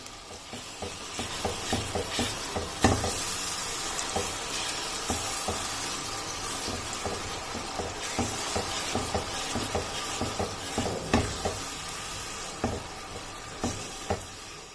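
Onion and tomato paste cooks in oil for chicken achar gosht, a soft, steady sizzle broken by repeated scraping strokes of a spoon against the pan, with no speech.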